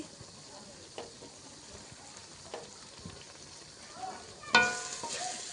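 Dried chili flakes go into a hot sizzling mango pickle mixture in a pan, a soft steady fry with scattered faint stirring taps, then a louder burst of sizzle and clatter near the end.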